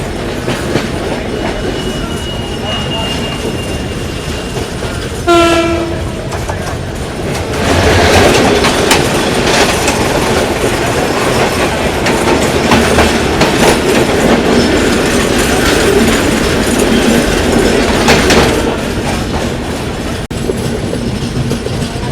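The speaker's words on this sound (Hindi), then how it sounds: "तो अभी अपनी ट्रेन स्किप कर रही है ढाका कैंटोनमेंट रेलवे स्टेशन" A Bangladesh Railways AC chair car train runs past Dhaka Cantonment station, heard from inside the coach as a steady, loud rumble and rail clatter, with a brief tonal whine partway through and the noise swelling louder afterwards.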